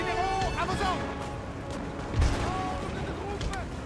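Cannon fire in the video game Napoleon: Total War lands as a single dull, distant boom beneath someone talking continuously over busy battle ambience.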